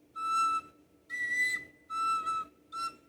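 A tabor pipe sounds four clear, sustained whistle-like notes in separate phrases, each bright and pure with rich overtones, separated by short pauses, played alone without speech.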